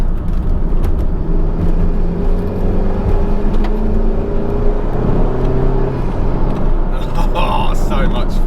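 A Honda Civic Type R in R mode drives hard, with a loud, continuous engine and road roar, the pitch rising and shifting as it accelerates, heard close from inside the car.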